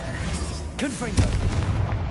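Explosive blast spell in Hogwarts Legacy, a deep booming burst mixed with swooping magical whooshes and crackle, with game voices and effects overlapping the rumble.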